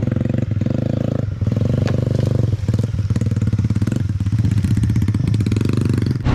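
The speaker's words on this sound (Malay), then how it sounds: "Motor dah hidup" Motorcycle engine running steadily up close on a jungle expedition, a loud continuous pulsing rumble with small shifts in throttle throughout.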